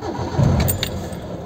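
A Hyundai Accent is started with its keys, a short jingle of keys followed by the engine cranking and catching, close and loud with no talk.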